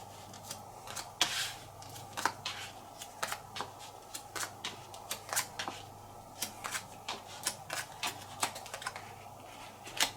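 Playing cards laid out one by one on a table for the Bangkok board game, light crisp snaps and slaps at an irregular pace, close and quiet, with no speech.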